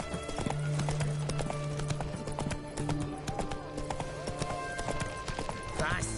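Hooves of Roach, a horse in the Witcher 3 video game, clip-clopping in a steady rhythm throughout, close and clear, with a low snort near the end and a brief voice over the game sounds.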